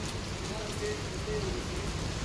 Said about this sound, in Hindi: अब पड़ने लगा है मी, बारिश हो रही है गाइस